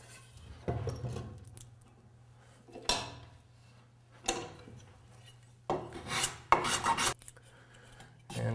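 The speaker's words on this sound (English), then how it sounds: "So we have some planing to do here, and we're going to match that to this." Hand plane shaving wood on a guitar neck during construction, heard as several separate short rasping strokes spread out between quiet pauses over a low background hum.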